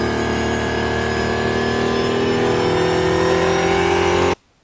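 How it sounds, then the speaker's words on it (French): A car accelerates hard inside a tunnel in Nice, its engine a loud, continuous roar climbing steadily in pitch with echoing reverberation before cutting off abruptly. "Écoutez bien le moteur."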